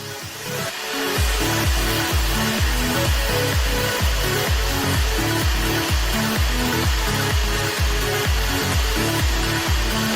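After a brief quiet start, a hair dryer's loud, steady blowing roar switches on and continues with a rapid rhythmic pulsing throughout.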